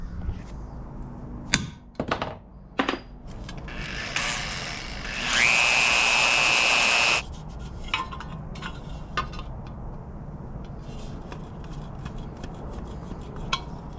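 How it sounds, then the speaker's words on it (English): Power drill boring a hole during a car thermostat repair, a steady whining burst lasting about two seconds amid scattered clanks and taps of tools and parts in a quiet workshop. "Let's drill that hole and move on to something else."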